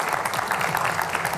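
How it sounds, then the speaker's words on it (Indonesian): A television studio audience applauds after millennial spokespeople are thanked, steady dense clapping with a faint voice beneath, short and sustained at even volume. "Kita beri tepukan sekali lagi pemirsa."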